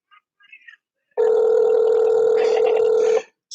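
A single long phone ring tone on a call that goes to voicemail, a steady electronic tone lasting about two seconds after a few faint blips.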